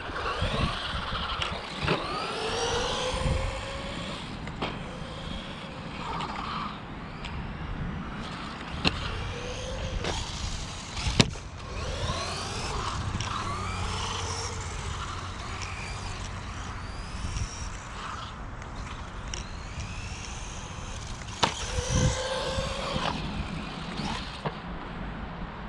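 Arrma Kraton Sledge mini RC car driving, its small electric motor whining up and down in quick rising and falling sweeps, with scattered knocks and clatters from bumps and landings.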